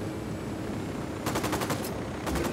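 Automatic gunfire in Ghost Recon Wildlands, starting after a quiet stretch with a rapid burst of about seven sharp shots, then a second burst near the end, loud and close over a low background rumble.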